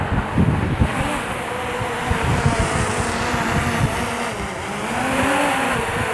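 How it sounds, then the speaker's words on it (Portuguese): Strong wind buffets the microphone outdoors beside a car on a highway construction site, a continuous loud roaring rumble with gusts that swell and fade throughout. "Nossa, o vento aqui é demais."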